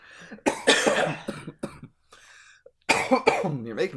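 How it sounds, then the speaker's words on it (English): A few coughs come in bursts between bits of conversation, with voices talking close by before and after. "You're making me cough. I'm making myself cough."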